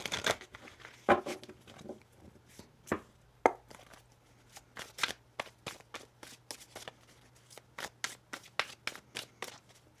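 Tarot cards are shuffled close by in quick, crisp bursts of riffling and tapping, sharp papery snaps in an irregular rhythm against a quiet room with a faint steady hum.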